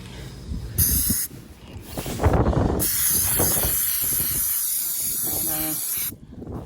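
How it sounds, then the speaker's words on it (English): A loud, steady hiss of de-icer spray from an aerosol can onto an iced Tesla Model 3 windshield, in a couple of short bursts and then one long continuous blast, very close. "And you just spray it on."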